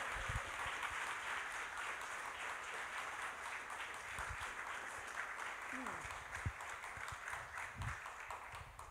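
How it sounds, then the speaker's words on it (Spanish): An audience applauds after a live musical performance, with a steady wash of clapping throughout and a voice speaking over it. "Álvaro Agopian, un fuerte aplauso, por favor."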